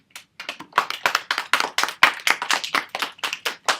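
A small group of people clap together in a brisk, steady rhythm of sharp, close hand claps, lasting several seconds with no talking.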